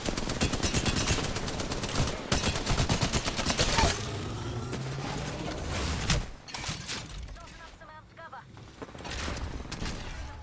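Heavy automatic gunfire from an Apex Legends firefight, loud and sustained bursts for the first few seconds, then scattered shots, with players talking underneath and a quieter lull near the end.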